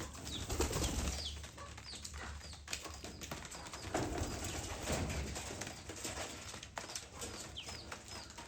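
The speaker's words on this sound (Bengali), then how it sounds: "এই তো কবুতর নামতেছে" Pigeons coming down to feed in the afternoon, with soft wing flaps and low coos scattered through a steady outdoor background of chirping birds, moderately near.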